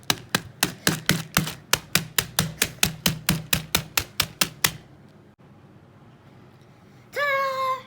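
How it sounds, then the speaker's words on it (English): Walnut cookies are crushed inside a Ziploc bag with a quick, steady series of about eighteen sharp, close blows, then a pause and a brief squeaky rustle at the end. "I have now put the walnut cookies in a Ziploc bag. Now, just crush it."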